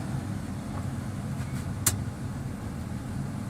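A Class B stick-shift truck creeps forward and stops, its low engine rumble steady and close inside the cab, with a single brief sharp click partway through and no talking.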